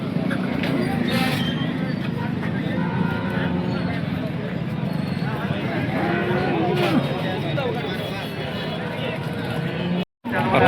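A cow moos at a cattle market in Sangola, where HF cows are traded, with a couple of low drawn-out calls rising above steady crowd hubbub and nearby voices talking.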